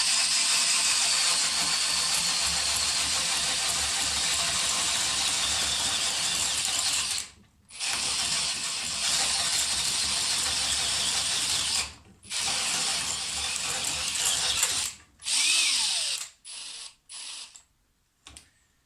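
A Star M No. 5010AT adjustable circle cutter chatters while drilling, a loud rattling, juddering grind that runs continuously then breaks into several short bursts with gaps toward the end, close by and without speech.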